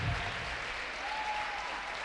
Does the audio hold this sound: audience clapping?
yes